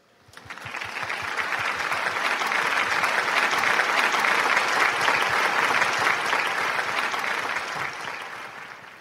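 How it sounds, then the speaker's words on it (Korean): A concert audience gives sustained, steady applause to welcome an 80-piece church orchestra at a Passover concert. The clapping swells quickly, holds dense and loud, then tapers off. "메시아 오케스트라를 큰 박수로 맞아주시기 바랍니다."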